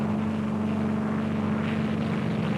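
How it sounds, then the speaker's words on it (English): Propeller aircraft drone steadily overhead during the Project Crossroads Able test, circling above ships anchored at sea, a continuous loud engine hum with no break. "scores of other aircraft are taking their prearranged positions in the sky above the anchored ships"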